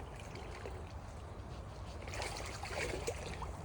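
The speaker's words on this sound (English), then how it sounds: "So you can see now that the river has got proper flow. It's really flowing." River water running freely after a silt-choked blockage was cleared, a steady broadband rush with small trickles and splashes swelling slightly toward the end, close and continuous with no talk.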